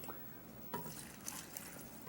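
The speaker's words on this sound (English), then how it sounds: "Got to put a little more water in this." Water trickles and drips into a cooking pot of corned beef being prepared with cabbage, a soft, faint pour with a brief louder splash partway through.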